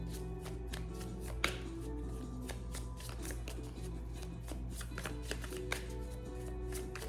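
Tarot cards are shuffled continuously by hand, a close, steady riffling and tapping that lasts throughout, with no talking.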